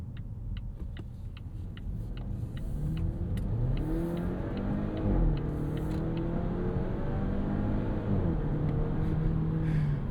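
A 2026 Volvo V60 Cross Country wagon, the non-hybrid version, accelerates with a rising, raunchy engine note that builds steadily in pitch and loudness over several seconds, heard from inside the car with no talking.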